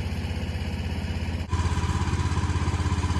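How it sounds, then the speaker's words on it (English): A Gator utility vehicle charging in the background gives a steady pulsing mechanical drone, near and fairly loud, with a brief dip about halfway before it returns with a stronger, deeper throb. No one speaks. "Sorry about that background noise over there with that gator charging"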